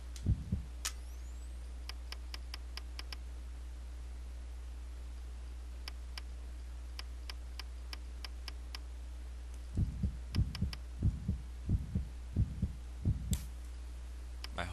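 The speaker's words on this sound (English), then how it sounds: "My heartbeat monitor had slowed down" Heartbeat monitor in the sci-fi video game Xenominer, sounding sparse electronic ticks in short bursts over a steady low hum, then a run of soft, slow, low thumping beats toward the end; no speech.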